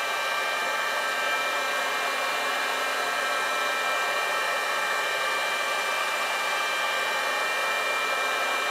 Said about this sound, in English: Okay, let's just heat up this shrink tubing.